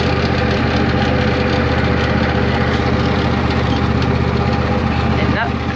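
A riding lawnmower engine drones steadily and loudly up close while being driven slowly through a garden, a constant low rumble with a faint knocking texture and no pauses.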